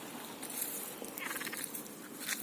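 Frogs croak in a dense, overlapping chorus outdoors, a steady wash of rasping calls with some louder bursts, no voices.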